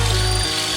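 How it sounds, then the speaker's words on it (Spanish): A power drill bores holes through the sheet-metal body panel of a freshly painted Toyota Supra, a brief, steady, close motor whine that holds for under a second. "nos toca taladrar algunos agujeros en la chapa"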